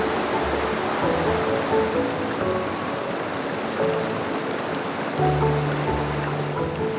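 Water in 10 Mile Creek rushes steadily, loud and close, after the creek has risen, with a constant wash and no talking.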